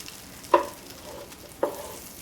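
Garlic hits a hot pan set to medium-high alongside onion, giving two short sizzling bursts with stirring clatter, each fading quickly into a soft background hiss.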